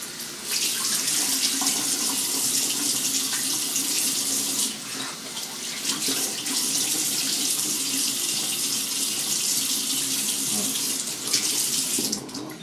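Tap water runs steadily into a sink for rinsing after a head shave, a loud continuous broadband splash that dips briefly twice before flowing on to the end.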